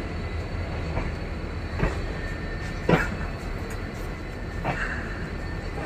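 A passenger train runs along the track, heard as a steady low rumble with occasional rhythmic clacks and faint squeals, fairly close and continuous, with no talk.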